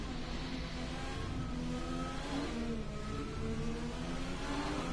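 A McLaren racing car engine whirs and revs steadily in a wet-weather racing video game at Great Britain, a fairly faint onboard drone with rising and falling pitch, no talk over it.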